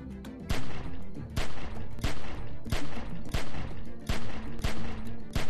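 Sustained gunfire in The Walking Dead 400 Days, a rapid string of loud sharp shots fired in irregular bursts about every half second over a steady background rumble.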